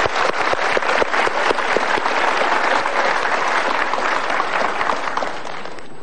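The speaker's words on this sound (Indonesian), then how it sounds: "Berikan tepuk tangan untuk diri Anda sendiri." Audience at a motivational seminar applauding, loud dense clapping that fills the room evenly before easing slightly at the end, with no talking.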